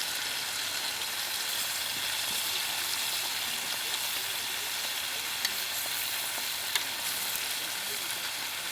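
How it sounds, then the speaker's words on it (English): Tomatoes frying in a pan for a full English breakfast, giving a steady, even sizzle with small pops and spits throughout and little else. "Tomatoes are cooking."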